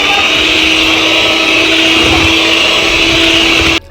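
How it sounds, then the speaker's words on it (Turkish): An electric hand mixer beats fruit cake batter, a loud steady motor whine with an even hum that runs unbroken for nearly four seconds before cutting off abruptly. "Bunları da əlavə etdikdən sonra mikserimizlə qarışdırırıq."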